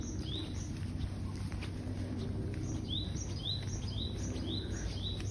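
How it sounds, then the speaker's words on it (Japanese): A Japanese tit repeats its bright upswept call outdoors by a muddy river in snowy Tokyo, several short phrases rising out of a steady rushing background, moderately near and with no talking. "シジュウカラ鳴いてますね。"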